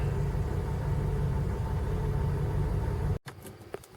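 Engine of a 1995 Jeep Grand Cherokee ZJ idling warm at around 50 psi oil pressure, a steady low rumble close by that cuts off abruptly near the end, leaving faint clicks and handling noise.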